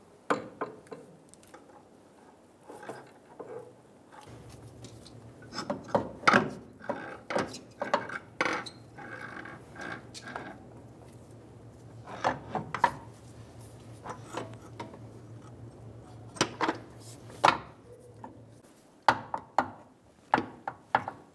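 A CV axle assembly is fitted into the transaxle of a 2007-2011 Toyota Camry, giving scattered metallic knocks, taps and clunks over a low steady hum, fairly close and without speech.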